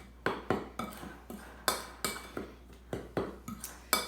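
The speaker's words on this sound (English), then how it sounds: "I'm gonna take my spoon and I'm gonna stir that all up so that it's all mixed together" A spoon stirring dry flour, salt and cream of tartar in a bowl gives about a dozen quick, light clinks and scrapes in an uneven rhythm, close and fairly quiet, with no talking.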